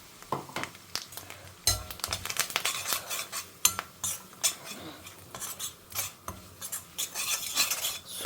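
Sambar powder dropped into hot oil in a pan with mustard seeds, asafoetida and curry leaves, sizzling steadily while a metal spoon scrapes and clinks against the pan in quick repeated strokes, close and fairly loud.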